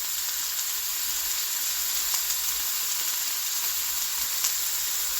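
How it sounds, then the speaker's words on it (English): Food frying in a hot pan gives off a steady, close, loud sizzle with faint crackles and no talk over it. "Now we got some sizzle for your fizzle."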